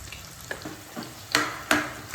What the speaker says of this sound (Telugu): ఉల్లిపాయలను దోరగా వేయించాలి